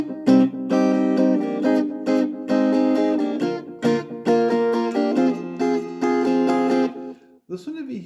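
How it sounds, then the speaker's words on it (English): Guitar strumming of a song's chords runs in an up-tempo rhythm pattern, with full ringing chords struck in quick, steady strokes and a short pause near the end, loud and close. "Now, the fourth rhythm is a very cool rhythm. It's a lot more up tempo."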